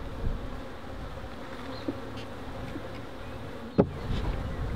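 Honey bees buzz inside a fridge hive, a dense steady insect drone close by with a few soft knocks and one sharper clack from the hive, no talk.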